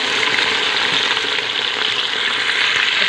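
Green onions and green chillies fry in hot oil for chickpea gravy, giving a loud, dense, continuous sizzle that stays steady throughout with no voices.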